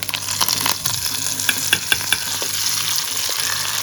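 Mustard seeds, cumin, dried chillies and curry leaves crackle in hot oil for a chutney tempering, a dense sizzle with sharp popping spatters and a few clinks of a stirring spoon, close and unvoiced.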